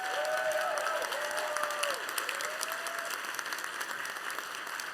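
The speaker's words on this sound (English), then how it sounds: "One more round of applause for our amazing contestants" Sustained audience applause for contestants at an LGBT business pitch competition, a steady even wash of many hands clapping with faint crowd murmur and a few higher voices underneath.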